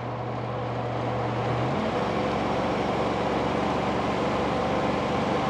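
A truck fitted with an H-way 2 exhaust modification rumbles steadily, its low engine note shifting slightly as it settles, then holding a constant droning tone up close with no talking.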